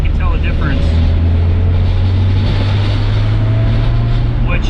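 A Nissan GT-R with an RB28 2.8-liter HKS stroker engine, forged internals and Step 2 VCam pulls hard in fourth gear. The engine drone is loud and steady, rising slowly in pitch, heard from inside the car under faint talking.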